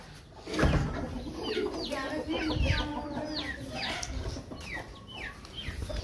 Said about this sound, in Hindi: ये देखो दो छोटे छोटे चूजे